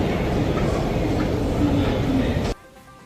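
Loud, dense rumble of a London Underground train in a station, with faint voices underneath, cutting off abruptly to a quiet hum near the end.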